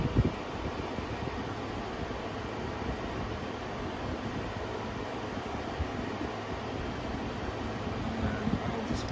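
A Midea 5,000 BTU window air conditioner hums with a steady, even airy whoosh of fan noise at close range, unchanging throughout with no voices.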